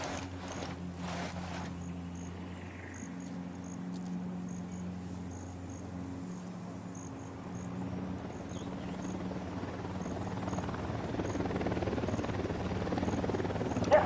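Steady video-game helicopter rotor drone in Tom Clancy's Ghost Recon: Wildlands, approaching and growing gradually louder and rougher, with a low hum and faint chirping in the background.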